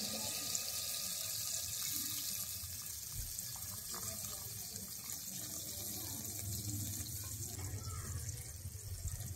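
Water runs steadily from a tap or is poured into a cooking pot as a continuous close rush, with a faint background murmur.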